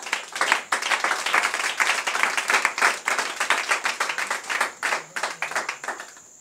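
A church congregation claps together in a fast, steady rhythm, many hands beating in unison for several seconds and fairly loud, with faint voices mixed underneath.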